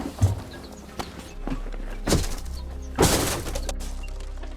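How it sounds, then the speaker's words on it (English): Fragmented glass in a train window is pushed out, several crunching, scraping impacts at irregular intervals over a low rumbling background, fairly close and moderately loud. "Now, push out the fragmented glass with any reasonable heavy item,"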